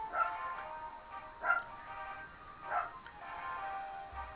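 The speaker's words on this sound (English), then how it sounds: "Sorry if you can hear that. My dog is freaking out a little bit." A pet dog yips and barks in short excited bursts, about four separate outbursts spread across the moment, fairly faint and somewhat distant, with a steady hiss filling the gaps.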